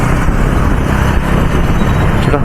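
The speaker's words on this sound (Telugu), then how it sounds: "మొత్తం ట్రాఫిక్ జామ్ బాస్." Cars sit and creep through a Hyderabad traffic jam on a rainy Saturday night, giving a loud, unbroken wash of engine rumble and road noise.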